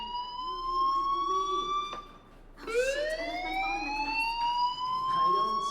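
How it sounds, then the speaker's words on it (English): A fire alarm in the video game Life is Strange wails with a rising, steady electronic tone that breaks off briefly and then climbs again, loud and continuous. "Hey, do you hear that fire alarm?"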